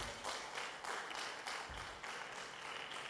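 A church congregation applauds in a steady, continuous wash of clapping with even rhythm, moderately distant and fairly quiet.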